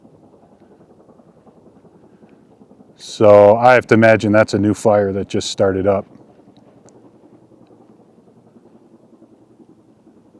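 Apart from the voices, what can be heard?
helicopter hovering over distant mountain fire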